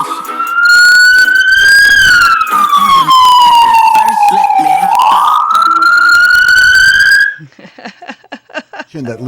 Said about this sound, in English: The ambulance is going by. Let's see, there's a fire engine.